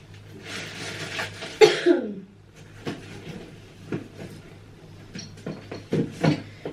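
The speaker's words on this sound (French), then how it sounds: "je suis désolée, j'arrête pas de tousser" A woman coughs a few times, close and moderately loud, followed by soft throat-clearing and small handling knocks in a quiet indoor room.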